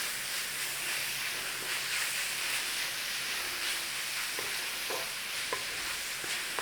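Tomato paste and water thickening into sauce in a pan hiss and bubble steadily, with a spoon scraping and stirring in soft, irregular strokes close by.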